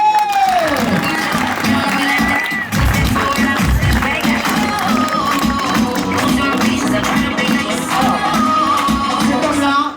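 Applause at a director's cocktail evening for the guest service manager at the Madina Valeria hotel in Marrakech: steady clapping from a crowd runs the whole time under music and chatter.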